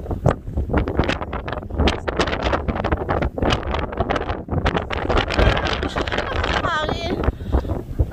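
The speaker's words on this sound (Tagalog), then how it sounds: "Mas malakas yung hangin dito." Strong gusty wind on a snowy summit buffeting the microphone, roaring and flapping continuously, with a person talking underneath.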